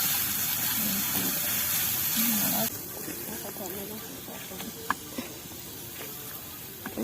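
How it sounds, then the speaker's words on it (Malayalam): Onions fry and sizzle in a pan with a steady hiss, louder at first and then softer, with a few faint clinks and a voice speaking over it. "ഉള്ളി വറ്റിയിരിക്കുകയാണ്"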